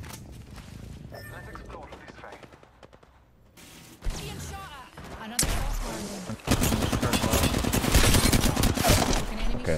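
Rapid automatic gunfire crackles through an Apex Legends firefight, sustained bursts growing louder and denser toward the end, with talk mixed in underneath.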